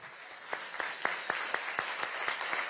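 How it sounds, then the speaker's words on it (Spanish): An audience at a school opening ceremony in Bosa, Bogotá, gives steady applause, a dense patter with distinct individual claps standing out, heard alone without talk. "Un fuerte aplauso, por favor."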